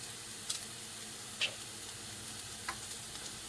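Minced garlic sizzles softly in a pan, a faint, steady frying hiss with a few small pops and crackles and no one talking.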